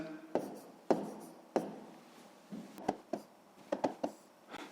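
Pen or chalk writing numbers while working a sixth-grade math division exercise, a series of sharp taps and short scratchy strokes in irregular bursts, close and moderately loud, with no talk.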